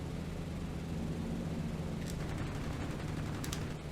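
Machine gun fire from a B-17 bomber at an attacking fighter in B-17: The Mighty 8th, a dense, steady rattle over a constant engine roar, with a few sharper cracks near the end.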